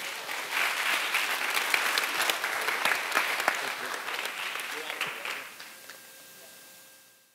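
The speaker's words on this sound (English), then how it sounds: "All right, round of applause for them, please." A class audience applauds in a leadership course session, steady clapping that swells and then fades out gradually toward the end.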